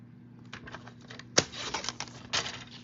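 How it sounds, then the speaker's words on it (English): Crafting scissors snip off a half-inch piece, a series of faint quiet clicks and crisp rustles with one sharper cut near the middle, under a low steady hum. "I'm just gonna cut off a 1/2 inch"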